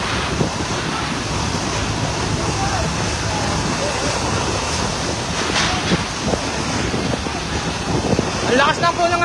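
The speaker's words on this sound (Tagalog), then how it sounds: "Ang lakas na po ng hangin" Strong wind roars and buffets the microphone outdoors at a residential compound fire in Las Piñas City, a heavy broadband rush with gusting surges throughout, ending in a louder clattering burst.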